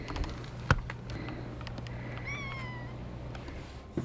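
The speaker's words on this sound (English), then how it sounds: "There's also a little, tiny kitten." A tiny kitten aboard a traditional-style narrowboat gives a few short, high meows midway through, fairly close, over a low engine-like hum with light clicks and a brief knock.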